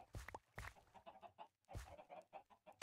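Chickens in a Minecraft egg farm cluck in short repeated bursts, faint and fairly close, with a few louder squawks scattered among the softer clucks.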